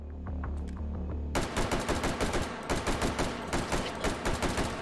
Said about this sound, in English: I know you were shooting me.